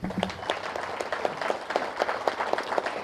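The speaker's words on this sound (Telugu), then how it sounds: "దానికి గట్టిగా చప్పట్లు కొడదాం" Sustained crowd applause at a large spiritual meditation gathering, with dense, even clapping throughout, moderately loud and unbroken.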